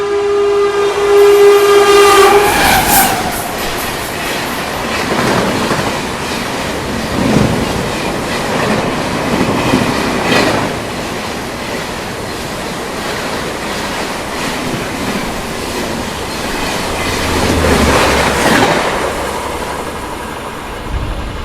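The Ranchi Rajdhani Express sounds a loud horn blast and then roars past the Amrit Bharat Express, its wheels rumbling in a long, heavy wash of rail noise that swells and fades.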